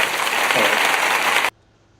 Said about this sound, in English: We'll go with applause.